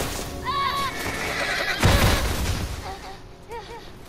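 A horse in The Last of Us video game gives a loud, close whinny, with a shorter whinny near the end. A sharp burst like gunfire from the gameplay cuts in between, over a busy background of game noise.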